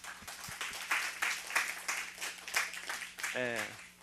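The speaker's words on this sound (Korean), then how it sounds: "우리 미리 믿고 한번 박수 한번 칩시다." A church congregation claps together at a Korean worship service, a modest, uneven patter of hands at fair distance. A voice briefly rises near the end.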